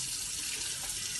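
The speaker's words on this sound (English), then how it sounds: "we're gonna wash our hands really good" Tap water runs steadily into a sink as hands are washed in a home kitchen while cooking borscht, a constant close splashing hiss with no talk.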